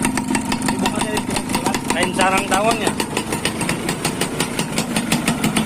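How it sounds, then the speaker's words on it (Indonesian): A 2002 Yamaha F1ZR motorcycle engine with an open exhaust pipe idling with a steady, rapid putter close by, while a person talks over it. "suara mesin adem"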